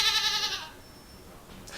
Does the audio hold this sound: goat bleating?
yes